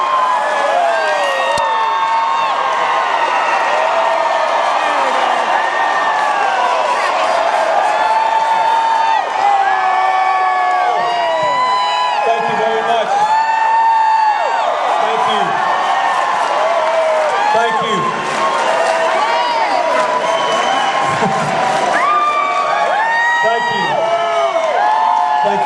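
A large crowd cheers, whoops and claps continuously at an outdoor Bill Clinton political rally in Medford, Oregon, loud and sustained throughout with shouting voices layered in the roar.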